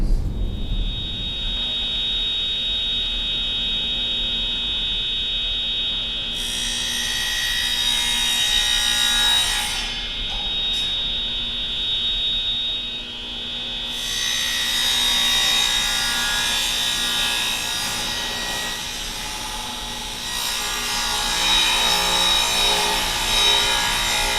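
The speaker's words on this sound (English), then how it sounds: "I set the fence up, 7-inch cut, so I'm going to cut all these pieces" Table saw ripping pieces of wood at a 7-inch fence setting in a workshop, a steady loud whine with harsh upper bursts as each cut runs, continuous for the whole stretch with no talking.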